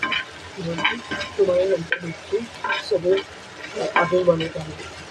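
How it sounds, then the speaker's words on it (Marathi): Onion and green chilli frying in a pan, with spatula stirs and scrapes coming in irregular bursts over a soft sizzle, close and moderately loud, and a voice faintly present underneath. "आता कांदा मिरची हे भाजून घेऊया आपण"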